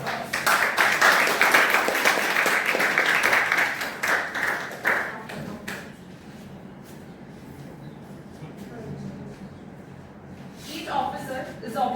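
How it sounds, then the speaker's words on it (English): An audience at a Toastmasters club meeting breaks into steady applause for several seconds, then thins out and fades into a quiet room, with a voice returning near the end. "Can we give a big round of applause?"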